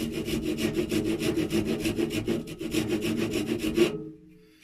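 A round rasp files into oak wood, a rapid run of rhythmic scraping strokes close up and loud, stopping abruptly near the end.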